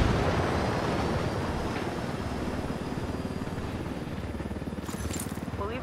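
Enemy helicopter in the video game Ghost Recon Wildlands, a steady, loud rotor and engine roar that fills the whole stretch without a break, with a brief higher whine near the end.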